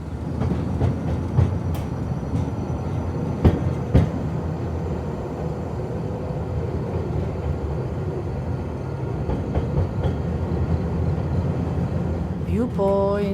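A Brienz Rothorn Bahn cog railway steam locomotive train rumbles steadily close by in Switzerland, with clanking and sharp metallic knocks over the drone. A squeal of wheels or brakes comes near the end.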